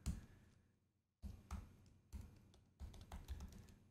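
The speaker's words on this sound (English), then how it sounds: "Just typing in my super secret password there" Quick bursts of typing on a computer keyboard, close and crisp, with short pauses between runs of key clicks.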